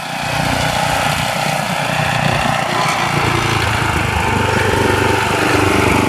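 A gas-powered garden tiller engine runs loud and close, a steady rough drone that holds evenly throughout with no talk.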